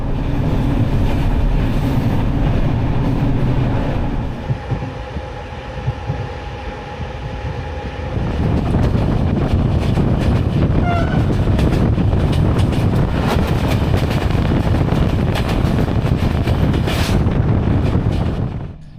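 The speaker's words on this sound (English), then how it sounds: "Sitting in a retro compartment like this while the train goes clickety-clack is definitely a vibe" An old 40-year-old Bulgarian express train heard from inside a retro compartment, a steady loud rumbling roar of wheels on rails with rattling and clattering. It drops quieter briefly midway, then builds again, with wind noise.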